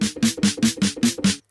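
Seven quick snare drum hits in a steady, even rhythm, each one shifted to a slightly different pitch by a random modulation of 2 semitones, close and dry, ending in silence.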